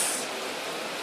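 Steady, close rain hisses as a dense, even wash during Tropical Storm Matthew in Barbados, with no voices.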